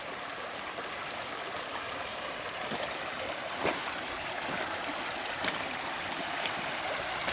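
Water trickling and flowing steadily through a small creek crossing on a lakeside hiking trail, a continuous soft wash close by with a few brief splashy accents, no voices.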